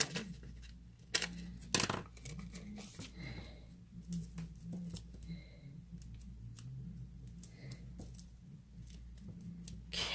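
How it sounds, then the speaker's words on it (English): Paper snips cutting through paper during a card-making craft session, giving a few crisp, close snips among small clicks and handling rustles, with no talking. "let me get my paper snips here."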